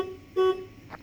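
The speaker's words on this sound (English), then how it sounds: "But yet there's that freaking mean horn there." A 1979 Ford F-350 flatbed truck's horn gives a single short, loud, steady honk, preceded by a fainter tone and followed by a brief trailing sound.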